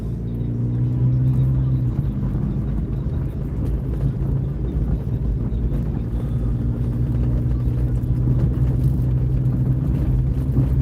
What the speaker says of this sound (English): Thought I would do a live as I was driving.